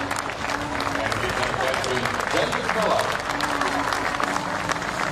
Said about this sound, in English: Terrific innings and just applause from the South African change room.